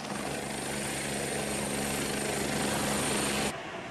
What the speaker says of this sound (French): Le trafic d'hélicoptères continue d'augmenter ici?